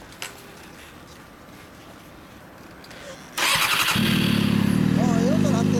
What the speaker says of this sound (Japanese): エンジン音聞かして